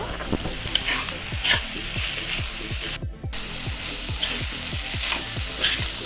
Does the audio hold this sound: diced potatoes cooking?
yes